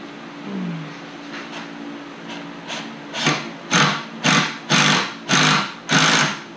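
A power drill driving screws into door framing, a rising series of about six short whirring bursts in a steady rhythm, close and loud, each burst growing stronger.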